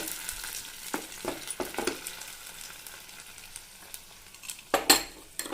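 Tomato paste goes into a pan of lightly browned ingredients for momo sauce and fries with a soft, steady sizzle, broken by intermittent stirring scrapes and a louder spatter burst near the end.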